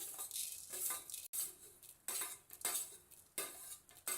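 Coriander seeds and spices fried and stirred in a pan, with repeated metal spoon scrapes and clinks over a soft sizzle, close and fairly quiet, a village-style dry prawn karapodi preparation, no talking.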